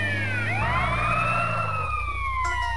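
An ambulance siren in the video game GTA San Andreas wails loudly and continuously, its tone sweeping up and down over a low engine drone, with no talk.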